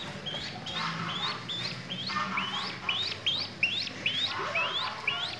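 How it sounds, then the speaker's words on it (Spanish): A plain chachalaca (guacharaca) calling outdoors near fish-farming ponds, a run of repeated rising, scratchy chirping notes at an even rhythm, fairly close and clear. "Pero tenemos una guacharaca o chachalaca, como le dicen en otras partes, y no la quieren."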